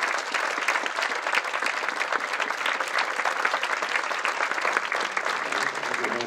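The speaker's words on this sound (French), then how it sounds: "Vous pouvez les applaudir." A conference audience applauds as guests arrive on stage, steady dense clapping from many hands filling the room at a constant level throughout.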